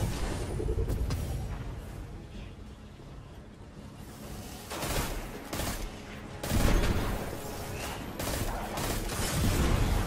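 Gunfire in the Destiny 2 video game, loud bursts of shots and booms that recur through the scene, heaviest around the middle and end, with no talk over them.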